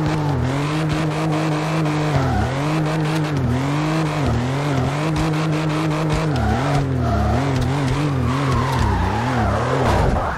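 A Nissan GT-R50 in the CarX Drift Racing video game drifts and spins out, with a loud, steady engine drone rising and falling and continuous tire squeal throughout.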